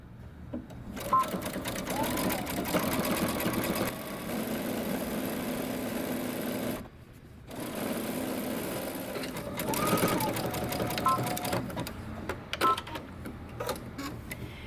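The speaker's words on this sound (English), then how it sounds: "So I'm going to be using, like I said, a very, very narrow zigzag stitch." A sewing machine runs a very narrow zigzag stitch in long close whirring bursts, pausing briefly midway, with someone speaking over the stitching.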